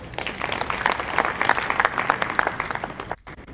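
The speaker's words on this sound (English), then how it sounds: "I think that deserves an applause" At an opening ceremony an audience bursts into applause, a dense crackle of many clapping hands that holds steady and then drops off sharply near the end.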